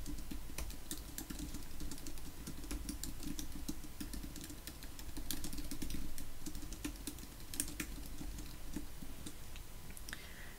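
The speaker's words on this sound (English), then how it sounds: "I could just type something" Typing on a computer keyboard, a steady stream of light close key clicks and taps, quiet and continuous with no talking.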